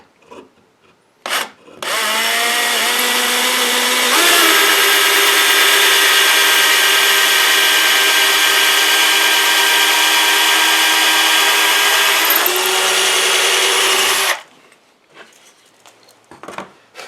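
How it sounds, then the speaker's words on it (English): Power drill boring into wood held down firmly, a loud continuous whine starting after a couple of soft knocks, its pitch stepping up midway and holding for about twelve seconds before stopping abruptly. "we're going to let the drill do the work."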